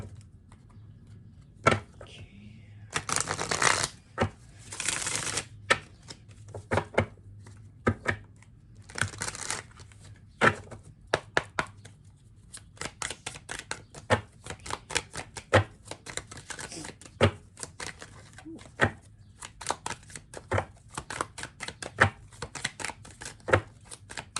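A deck of tarot cards is shuffled by hand in repeated bursts of riffling and sharp slapping snaps. The irregular clicks run on for over twenty seconds, close and fairly quiet, with no talking.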